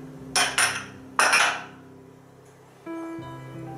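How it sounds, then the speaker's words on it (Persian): A spoon scrapes and clinks around a mixing bowl holding a raisin cookie batter of flour, salt and baking powder, with a few sharp metallic scrapes close up, then a quiet hum, no talk. "بعد دوباره با قاشق دور ظرف رو تمیز میکنیم"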